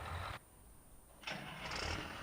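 A tractor engine in the farming video game Farming Simulator 19 cranks and turns over, a burst of engine noise, a short pause, then it catches and settles into a steady idle.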